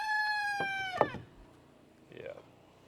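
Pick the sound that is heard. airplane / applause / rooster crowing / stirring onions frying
rooster crowing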